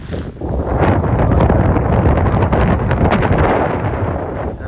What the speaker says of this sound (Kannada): ಫುಲ್ಲು ಬೆಟ್ಟ ಗುಡ್ಡ, ಸಿಕ್ಕಾಪಟ್ಟೆ ಗಾಳಿ